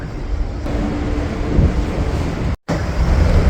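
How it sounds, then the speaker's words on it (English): Strong wind buffets the open deck of the P&O cruise ship Arcadia at sea, a steady roar of gusts and microphone wind noise mixed with distant surf, cutting out briefly near the end before returning. "The deck's closed off because of high winds"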